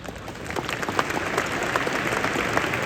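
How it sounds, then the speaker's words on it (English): Audience applause at a Web Summit 2025 talk, a dense crowd clapping that holds steady and swells slightly, filling the hall without voices. "Really appreciate all the claps."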